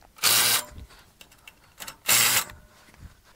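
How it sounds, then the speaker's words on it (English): Two separate bursts of ratcheting from a 9/16 wrench tightening the bottom carriage bolts on an HD38 log deck frame, each about half a second long, loud and close, with quiet pauses between them. "we're going to start by tightening down the bottom carriage bolts"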